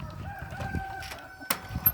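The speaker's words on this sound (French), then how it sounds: "j'ai mes 2 petites poules huppées avec le coq huppé" A crested rooster crows in a farmyard with hens nearby, a clear crow running under faint background clucking, followed by a sharp brief peak near the end.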